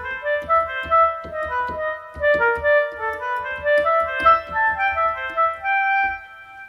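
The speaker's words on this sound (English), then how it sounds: "For our second layer, I'm going to load another Kontakt factory library patch, a French oboe," A sampled French oboe patch from a Kontakt factory library plays a slow, legato reedy melody with soft attacks, alone and clear over a light rhythmic backing.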